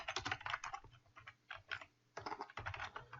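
Someone types on a computer keyboard while entering a name during an online chat program setup. Close keystrokes come in quick bursts separated by short pauses.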